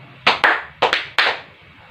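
Children in a classroom ice-breaking game clap hands in short sharp bursts, four crisp close claps in two quick pairs with brief gaps between.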